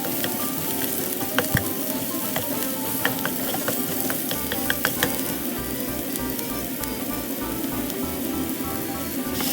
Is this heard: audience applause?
no